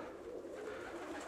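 A loft of pigeons produces a continuous soft, low cooing that stays even and fairly quiet for its short length.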